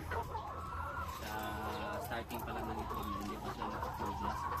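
Many chickens cluck steadily inside a small poultry house, a dense overlapping chorus of hens with a rooster-like call or two rising through, continuous and close throughout.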